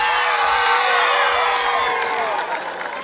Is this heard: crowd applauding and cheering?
yes